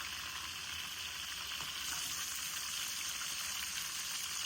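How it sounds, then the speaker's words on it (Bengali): Chicken marinated in yogurt, salt and spices frying in a pan, a constant hissing sizzle that stays even and steady throughout with no voices. "তারপরে এখন আমি এই যে ফ্রাই করে নিচ্ছি, দেখুন ফ্রাই করে নিচ্ছি"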